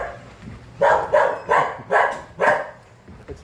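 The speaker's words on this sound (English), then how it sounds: "I got another dog in here, but he's in the cage." A dog kept in a cage barks four times in a steady rhythm, moderately near and loud, with quieter low rustling between the barks.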